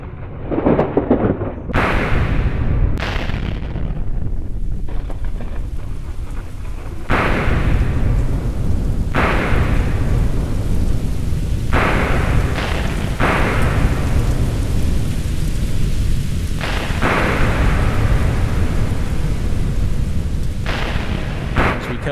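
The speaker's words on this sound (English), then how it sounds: "It is a dark and stormy night." A thunderstorm with steady rain in the video game Echostasis: continuous rainfall broken by repeated sharp thunder cracks and deep rolling rumbles, loud and close throughout, with no voices.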